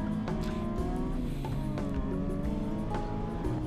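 A Nissan 370Z, STU class, accelerates through an SCCA autocross course: a close, continuous engine drone with shifting pitch as revs change, with faint tire noise underneath.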